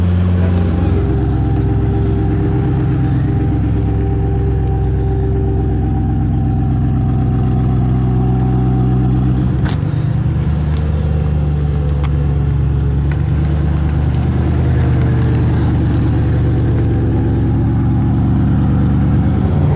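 Pagani Huayra BC engine heard from inside during a ride, a loud steady drone with shifting pitch and a brief dip partway through, sustained throughout.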